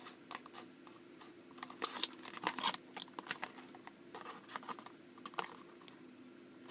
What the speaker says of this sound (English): Especially because I'm using these really thin scissors.